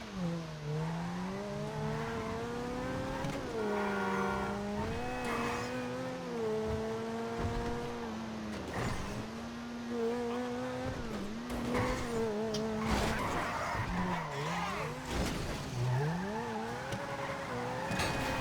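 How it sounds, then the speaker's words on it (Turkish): A car engine in GTA V revs and climbs, dropping in pitch at each gear shift, with tire squeals, sustained and fairly loud. "Arabanın sesini dinliyorum. Hani yapmışlar ya. Vites değişirken bir de vıdıdıdıdıdı yapıyor."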